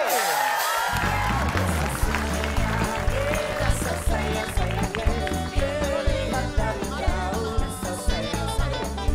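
A live Indonesian television comedy audience applauds for Melody and Gea Indrawari, with steady clapping and cheering from a crowd under loud music and a host's voice.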